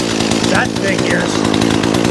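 Someone repeatedly tries to start a broken chainsaw with the choke on its first setting, and a rough, buzzing engine drone runs throughout, close and loud, with a voice briefly audible over it.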